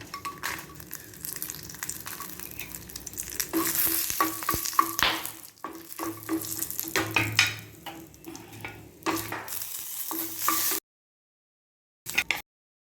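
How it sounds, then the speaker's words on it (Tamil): Dried red chillies and curry leaves roast in a little oil in a pan, with sizzling and stirring scrapes that come and go, then a sudden stop near the end. "கொஞ்சமாக எண்ணெய் ஊற்றி இந்த காஞ்ச மிளகாவையும் கருவேப்பிலையும் வறுத்து எடுத்துக்கலாம்"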